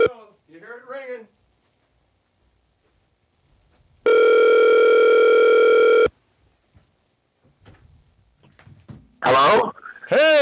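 A phone rings once in a steady, loud electronic burst lasting about two seconds, with brief speech before and after it.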